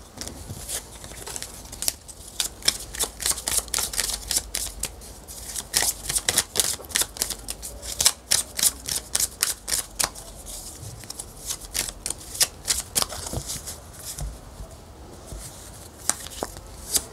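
Oracle cards are shuffled for a reading, a close, rapid run of crisp riffling flicks in uneven bursts that continues steadily, with no speech.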